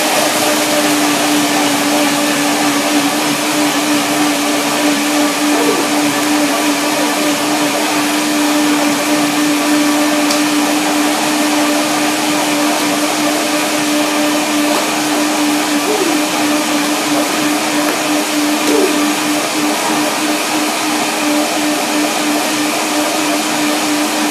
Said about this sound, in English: But now the blender dance, and let's see what it turns into.